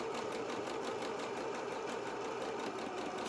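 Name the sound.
sewing machine zigzag stitching edge of fabric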